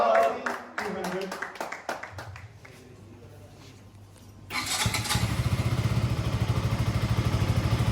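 A KTM RC200 motorcycle at an outdoor rider meetup fires up after some crowd noise and voices, then settles into a loud, steady, close-up idle with a fast, even engine pulse.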